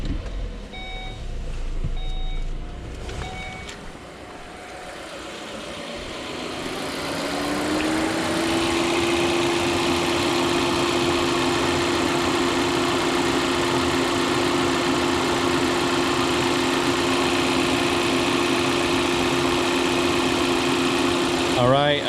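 A 2015 Volvo V60 T5 with a 2.0-litre turbo engine starts up and settles into a steady idle with a constant hum and whine, preceded by beeping tones, with a person talking.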